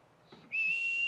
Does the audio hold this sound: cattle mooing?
no